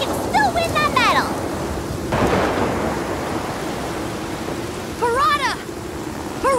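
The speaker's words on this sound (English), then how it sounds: "The storm is much too dangerous." A cartoon thunderstorm rumbles with steady heavy rain and a thunder crash, while whistling chirpy sounds come and go.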